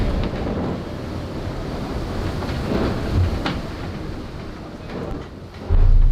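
Strong wind roars across the microphone in a steady, rumbling rush aboard a racing sailboat, swelling in gusts and buffeting loudest near the end.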